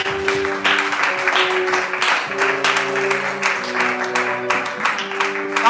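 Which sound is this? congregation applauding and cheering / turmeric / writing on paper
congregation applauding and cheering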